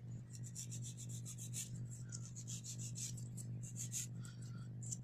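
A nail file rasps back and forth along the free edge of a fingernail while bevelling it, with quick, even, close strokes over a low steady hum and no talking.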